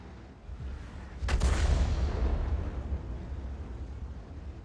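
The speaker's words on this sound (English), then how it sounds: "Just heard an explosion nearby." A single deep explosion booms nearby in a tank video game, a sudden thud that rolls into a long low rumble fading slowly over several seconds.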